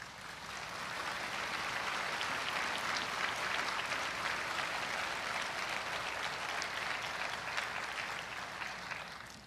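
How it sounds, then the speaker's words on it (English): Crowd at a police officer's memorial service gives sustained applause, a broad steady roar of clapping that swells slightly and then tapers at the end. "Please give them a round of applause."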